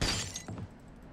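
Window glass shatters in the Valorant shooter game, a sharp loud crash at the start followed by a second, quieter breaking burst and tinkling debris fading out over about a second.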